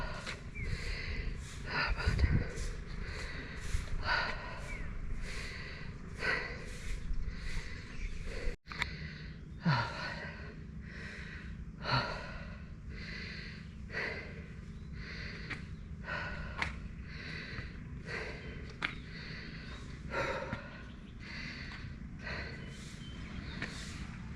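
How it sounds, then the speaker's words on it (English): Heavy, labored breathing from someone walking uphill near a seaside temple in Hua Hin, Thailand, with repeated close gasping inhales and exhales in a steady rhythm, plus occasional footsteps and faint background ambience. "Apologies for the heavy breathing."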